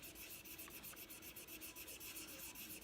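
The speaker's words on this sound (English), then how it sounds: "I'm working with 1000 grit right now" Fine 1000-grit sandpaper rubbed by hand against the undercut of a Glock polymer trigger guard, a close, steady run of quick back-and-forth scratchy strokes with no voices.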